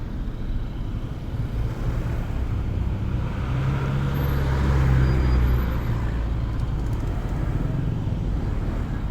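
Road traffic crawling along a narrow barangay road in Batangas, a steady low engine rumble of nearby vehicles that swells slightly midway, with no talking.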